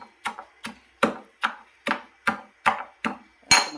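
Steady pounding of ingredients in a mortar to crush them for cooking, eight or nine sharp, evenly spaced thuds, close and clear with no talk, the last strike the loudest.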